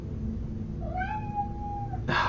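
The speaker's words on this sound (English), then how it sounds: "my cat is just going to keep meowing" A house cat gives a single drawn-out meow, close and clear, rising then holding steady for about a second, followed by a brief rustling burst.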